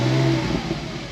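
A Porsche Boxster S 987.2 with a manual gearbox and factory sports exhaust, valves open, blips its engine in a short loud rev that rises and then settles back toward idle.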